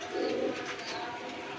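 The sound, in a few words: racer pigeon cooing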